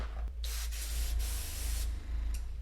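Airbrush spraying paint onto a Dark Angels Space Marine miniature's armor, a steady close hiss in several bursts with brief pauses, over the low hum of an air compressor running underneath.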